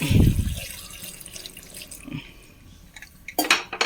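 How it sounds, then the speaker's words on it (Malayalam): Fresh water running from a tap into a pot of boiled tapioca in a home kitchen, a steady close splash that swells again at the end, with a faint murmur underneath. "നമുക്കതിലേക്ക് വേറെ വെള്ളം ഒഴിച്ച് കൊടുക്കാം."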